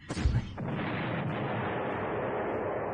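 17 cm artillery in the Panzer Corps war game fires a heavy, loud boom that fades into a long, steady rolling rumble, with no voices.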